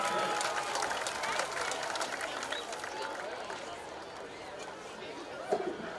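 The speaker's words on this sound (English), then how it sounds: "How about a nice round of applause for drum major Kalen Upton." Crowd at a high school football game applauds drum major Kalen Upton of the Albertville marching band, a steady wash of clapping and cheering mixed with chatter in the stands.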